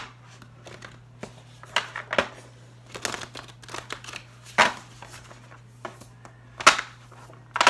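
Angel oracle cards are shuffled in a quick cleansing reading, giving a string of soft papery riffles and flicks with short pauses between, close and fairly quiet over a low steady hum, with no voices.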